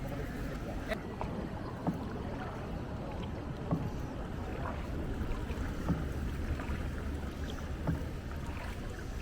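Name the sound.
boat moving on water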